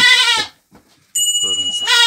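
Young Anglo-Nubian goat kids bleat loudly at close range, two drawn-out wavering cries separated by a brief quiet gap, the second followed by a sharp high electronic tone.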